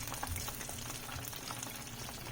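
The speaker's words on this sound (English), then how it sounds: "pan sear the garlic for a little bit" Chopped garlic pieces sear in a pan, a faint, steady sizzle and crackle with no pauses.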